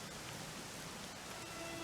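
Rain falls in the video game Dragon Quest XI as a steady, even hiss of downpour, soft in level and unbroken, with no speech over it.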